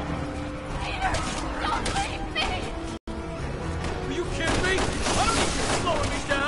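Dense gunfire from shooting at cannibal enemies in Resident Evil 6, Leon's chapter, with repeated shots and game noise continuing throughout, a brief dropout near the middle, and voices shouting over the action.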